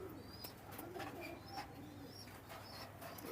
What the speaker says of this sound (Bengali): নিউ অ্যাডাল্ট কবুতর